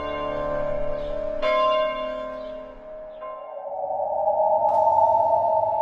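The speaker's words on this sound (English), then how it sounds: "you can still hear the bells of freedom tolling" Church bells toll in a few resonant strikes, each leaving a long, ringing hum that decays slowly, with a later strike joining the sustained tone as the sound swells at the end.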